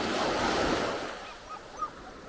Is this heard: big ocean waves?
yes